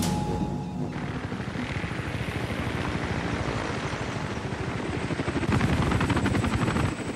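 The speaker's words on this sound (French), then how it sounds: "l'hélico se repointera ici dans précisément une heure" Helicopter rotor chop and engine whine close by, a steady rhythmic beating with broadband rush that swells louder toward the end, with no talking.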